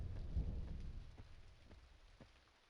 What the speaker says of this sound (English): Sounds like you're in a storm.